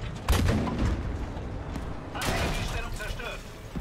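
Heavy cannon fire in the World War II tank game The Last Tiger: two deep booms roughly two seconds apart, each rolling into a rumbling tail over steady battle noise.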